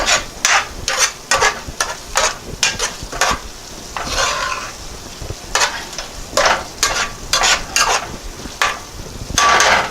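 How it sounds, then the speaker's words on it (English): Ground beef mixed with onions is stirred in a pot, a spoon scraping in quick repeated strokes over a soft, steady sizzle with no talking. "I want to stir my ground beef again that I mixed the onions in with it"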